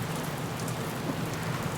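Rain falls during a night bus trip as a steady, even hiss of drops with a low rumble beneath and no voices.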